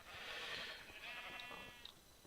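A sheep bleats in the Minecraft video game, giving a faint, wavering, nasal cry that fades out, followed by a couple of shorter bleats, with no talking.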